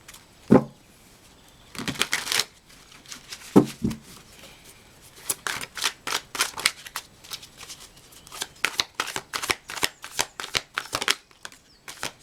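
Tarot cards being shuffled and drawn from the deck, close and crisp, with a few separate flicks and slaps first and then a long run of rapid riffling bursts, without talk.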